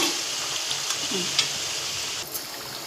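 Steady hiss and sizzle of masala lentil crisps (pappu chekkalu) frying in hot oil, close and continuous with a few faint clinks, no talking.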